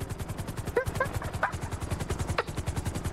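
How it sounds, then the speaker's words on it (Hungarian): Gunfire in GTA V rings out as sharp reports amid a steady, rhythmic helicopter-like engine thrum, with a few distinct bangs standing out over the continuous mechanical pulsing. "És hallottad a lövést?"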